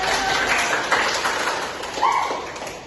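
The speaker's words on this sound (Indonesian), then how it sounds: "Oke, tepuk tangan untuk dia." A small class claps for a student in a classroom, giving brief, uneven, close-up applause with a few distinct taps. It fades gradually over about three seconds.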